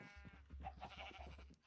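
Sheep bleating in the Minecraft 1.16 video game, a few short wavering blasyts of farm animals close by with a low background hum, no talk.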